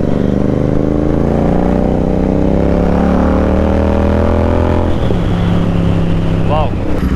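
A motorcycle engine fitted with an iridium spark plug revs steadily with rising throttle, a loud continuous drone whose pitch climbs and then drops back, with brief voice sounds near the end.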